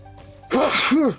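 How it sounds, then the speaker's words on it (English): A person sneezes once, a short close-up burst preceded by a quick intake of breath. "I'm gonna sneeze."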